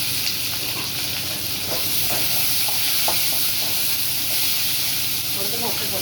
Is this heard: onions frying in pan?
yes